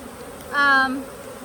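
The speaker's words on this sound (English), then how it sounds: "the amount of bees is amazing" Honeybees buzz during a hive inspection of a busy colony just out of winter, one brief close droning swell rising and fading within about half a second.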